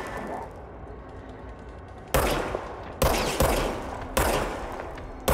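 Gunshots ring out in the video game Control after a stretch of quiet ambience, with five sharp, loud blasts in irregular succession, each decaying quickly, and no talking.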